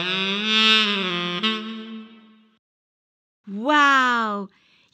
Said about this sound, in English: Wow! You found the saxophone